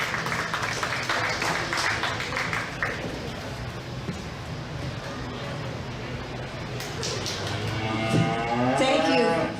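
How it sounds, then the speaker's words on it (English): Audience applause fills the arena at the close of a county fair livestock show with dairy beef, beef showmanship and pee wee classes, a steady wash of clapping with an announcer's voice and cattle noises partly audible in the mix. "Let's give them all a round of applause."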